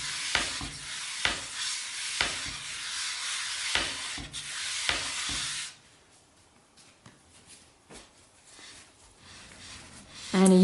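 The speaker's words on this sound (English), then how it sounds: "And you just roughly knead it" Cinnamon roll dough is roughly kneaded by hand, with rhythmic rubbing and slapping strokes repeating up close before the sound drops to quieter handling.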